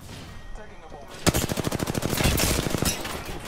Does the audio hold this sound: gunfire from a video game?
yes